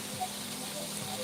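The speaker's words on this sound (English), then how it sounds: "I'm gonna just put a little bit of water in there" A soft, steady sizzling hiss as a little water hits a hot frying pan with chicken wings and garlic, low and continuous with a faint hum underneath.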